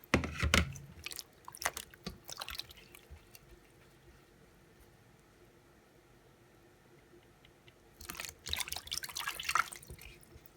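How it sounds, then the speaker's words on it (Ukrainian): Sulphur shelf mushrooms being washed under running water, with splashing and dripping bursts at the start and again near the end, separated by a long quieter stretch with faint trickling; no speech. "Всі інші гриби тепер я добре мию."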